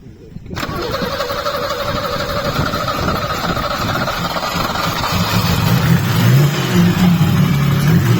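A BMW E28 2.0 petrol car engine cranks and catches after a short silence, then settles into a steady, close, loud idle with a slight rise in revs near the end.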